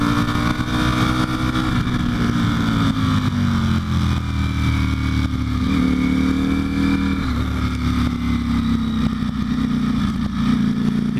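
Ducati Panigale V4 Speciale motorcycle ridden through canyon roads, its engine droning loud and steady throughout with gently rising and falling pitch as the throttle shifts, no talking.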